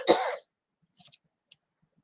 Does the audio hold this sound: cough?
yes